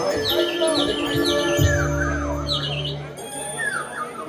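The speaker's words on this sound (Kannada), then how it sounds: "ಆ ಹಕ್ಕಿಗಳ ಚಿಲಿಪಿಲಿ ಗಾನ" Several small birds chirp and tweet in quick repeated phrases, fairly close and clear, over a steady background hum with a brief low thump partway through.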